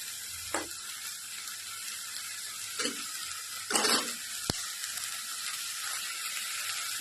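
Prawns frying in oil in a pan after their water has cooked off, a steady faint sizzle with a few brief scraping stir sounds and one sharp click.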